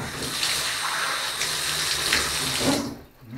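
Water runs steadily from a tap over a sink for a washing rinse after shaving, a close, continuous splashing gush that cuts off abruptly near the end, with no voices.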